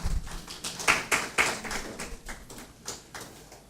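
Audience at a formal French-language event with guest Gaston Zossou, clapping in a loud burst that peaks early with a few sharp claps, then gradually thins and fades.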